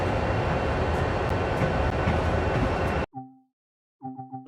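A train rumbles steadily on its rails, a loud and close broadband roar that cuts off abruptly. Short tonal horn-like blasts follow in the quiet that remains.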